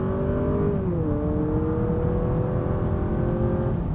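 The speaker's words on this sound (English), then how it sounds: "We'll put it into sport mode. Get a little bit more engine sound." A 2023 Honda Accord engine in sport mode hums steadily under road noise, its pitch dipping briefly as it shifts, then holding a smooth drone inside the cabin.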